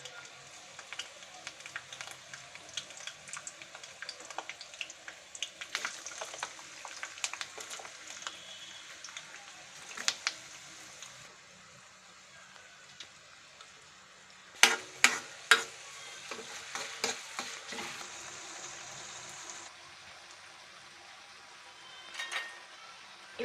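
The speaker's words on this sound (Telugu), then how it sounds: "ఆయిల్ వేడెక్కిన తర్వాత కరివేపాకు, పచ్చిమిరపకాయ, ఉల్లిపాయ ముక్కలు వేసి వేయించుకోవాలి." Curry leaves, green chilies and onion pieces frying in hot oil for a chicken and drumstick curry, a faint continuous sizzle with intermittent spoon stirs and a few sharp clinks against the pan midway.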